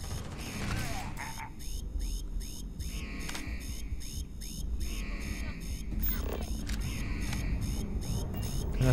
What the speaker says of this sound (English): I know now, the alarm is kind of annoying